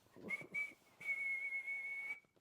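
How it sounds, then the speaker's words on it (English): A sharp referee's whistle sounds two short blasts, then one long sustained blow, loud and near, with no talking. "That was the final whistle."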